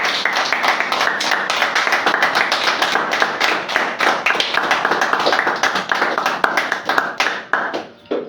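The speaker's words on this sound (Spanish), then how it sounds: "Den un aplauso al Señor." A church congregation claps for the Lord, loud, quick rhythmic hand claps in a steady beat that continue for several seconds before trailing off at the end.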